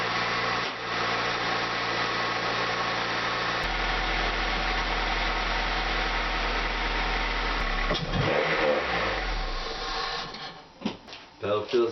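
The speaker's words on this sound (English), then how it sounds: "Gonna start the car up and make sure there's no surprises in any of the hoses or in the clutch system" Honda Acura car engine cranking and settling into a steady idle after a clutch slave cylinder install, a continuous close rumble with a low drone, then fading into mechanical clunks near the end.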